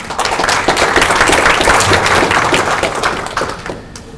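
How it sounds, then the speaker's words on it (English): A conference audience applauds to welcome the speakers, dense close clapping that holds steady and then tapers off near the end, with no voices over it. "So please a round of applause to welcome our speakers"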